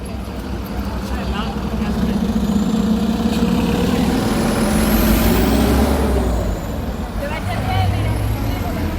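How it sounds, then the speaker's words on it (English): An evening traffic jam in Pisa rumbles with idling trucks and buses, a steady engine drone with a hiss of air brakes, while someone talks over it. "Nothing says Italy like a good old-fashioned traffic jam, and there is one this evening in Pisa."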